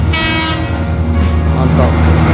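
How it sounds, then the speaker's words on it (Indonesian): A KRD Bias diesel train near Bandung passes close by, a steady loud engine drone with a sustained horn tone over it while someone speaks. "kereta KRD Bias akan kembali lagi ke arah Bandung"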